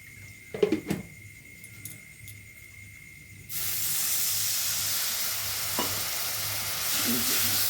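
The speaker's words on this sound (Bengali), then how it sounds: "মশলাটি ভালোভাবে নেড়ে চেড়ে সামান্য জল দিয়ে" Spiced masala with turmeric stirred in a frying pan: a few soft clinks and scrapes, then a loud, steady sizzling hiss that fills the rest of the clip once a little water goes in.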